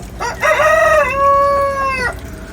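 A rooster crows loudly and close by at a market chicken stall, one long drawn-out call with no talking around it.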